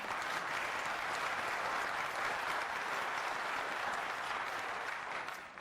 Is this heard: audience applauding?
yes